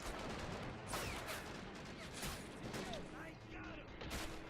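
Rapid bursts of gunfire from a soldier in the WWII strategy game Men of War: Assault Squad 2, Forgotten Fronts mod, battle at Makin, crackle continuously amid dense battlefield noise, with scattered near and distant shots layered over one another.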